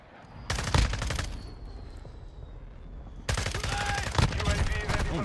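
Automatic gunfire in Modern Warfare with an FSS Hurricane class loadout, two loud sustained bursts of rapid shots separated by a short gap, with game audio and callouts in the background.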